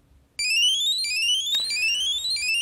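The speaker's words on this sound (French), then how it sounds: "je viens de recevoir une alarme sur mon bip" After a moment of quiet, a loud electronic alarm from a worn pager starts with rising tone sweeps that repeat in a steady cycle, close and piercing.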